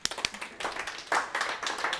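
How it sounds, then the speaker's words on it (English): A small audience at an antiques talk in Harrogate begins clapping, a few sharp early claps growing into fuller, uneven applause over about two seconds. "So give Anita a round of applause."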